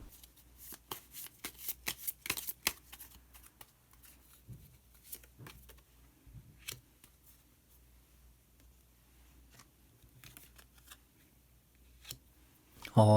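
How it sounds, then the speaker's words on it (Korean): Tarot cards being shuffled and drawn at close range, quiet riffling bursts and crisp flicks and taps spread irregularly across a mostly hushed background. "카드 한 장을 더 뽑고 이야기 계속 나오도록 하겠습니다"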